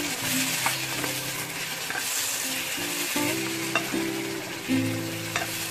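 Vegetables fry with a couple of spoons of tamarind juice in a pan, a steady close sizzle broken by repeated scraping and stirring strokes, with no talking.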